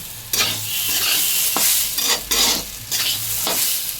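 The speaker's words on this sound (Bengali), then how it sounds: "এই যে ভালো মতো ভাজা হয়ে গেছে" Spices sizzle and crackle in hot oil while a utensil stirs and scrapes against a wok, with several louder scraping strokes over a steady fry.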